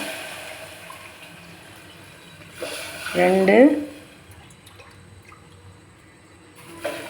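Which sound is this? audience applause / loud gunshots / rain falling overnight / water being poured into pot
water being poured into pot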